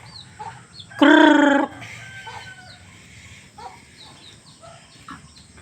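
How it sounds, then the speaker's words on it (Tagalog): Chickens at a farm with former pig pens, one loud squawking call up close, then softer scattered clucks over a faint background. "Ayan yung mga manok natin."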